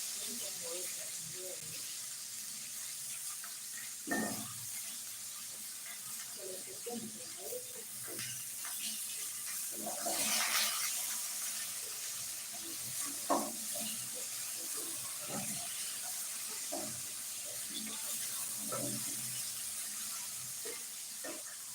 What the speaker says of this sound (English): I'm trying to drain the water.